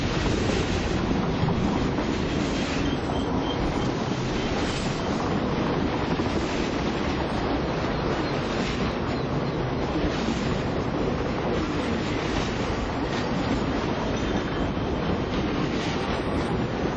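A train rumbles past steadily for the whole stretch, a dense, continuous roar of wheels and carriages with wind buffeting the microphone.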